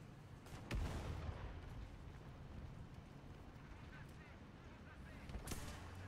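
Gunfire strikes a player's tank during a War Thunder match, sharp loud impacts landing near the start and again toward the end over a dense, rumbling battle background.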